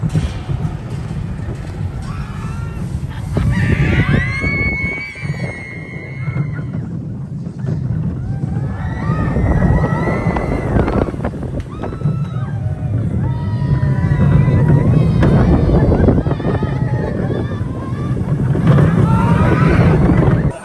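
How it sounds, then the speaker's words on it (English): The Dragon roller coaster at Legoland California, with wind rushing past the microphone over the rumbling coaster train as riders shout and talk excitedly throughout the run. "the dragon is open. Benjamin's favorite ride in all of Legoland"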